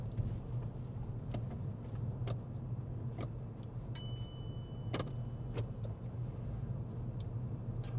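A car engine drones low and steady from inside the cabin during a gear change on a driving test, with a few faint clicks and a brief high electronic tone partway through.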